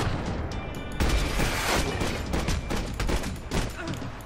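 Dense, continuous rapid gunfire with heavy booms and crashes, loud and close throughout, in an intense firefight in the video game Max Payne 3.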